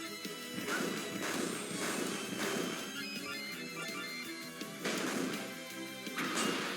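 Repeated loud smashing attack hits in the Mango Mischief video game, several crashing impacts in quick succession over busy game music and effects.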